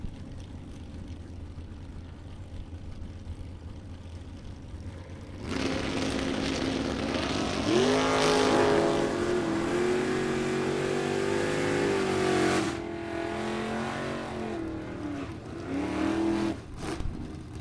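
A Chevrolet Camaro and a Pontiac Firebird launch side by side at a bracket drag race, engines roaring up loudly and holding a strained, rising drone before backing off, heard from trackside without talk.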